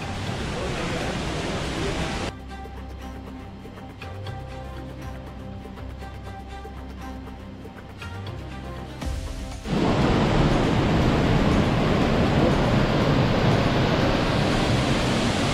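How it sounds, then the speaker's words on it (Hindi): Roar of Davis Falls, a waterfall in Nepal, heard as a loud, steady broadband rush that drops back for a stretch while talk and other sounds take over, then returns strongly and fills the rest. "यहाँ पर बहुत शोर है वैसे तो, पर ये जो आ रहा है वो डेविस फॉल है"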